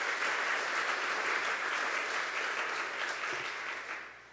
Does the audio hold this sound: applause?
yes